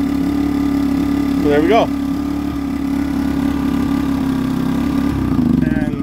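Yardworks 950W inverter generator engine idling low with a steady, loud hum, briefly interrupted by voices talking over it.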